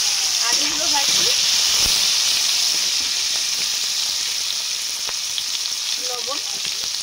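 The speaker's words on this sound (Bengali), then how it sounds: "আলুগুলো ভাজছি," Small potatoes frying in mustard oil, giving a steady, close sizzle and hiss that holds through the whole stretch, with a few faint clinks and brief voice-like sounds over it.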